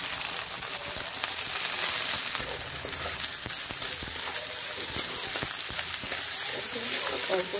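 Chopped onions sizzling and frying in a little oil in a pan, a steady crackling hiss throughout with a few sharp pops and faint stirring, close and fairly loud, with no talk.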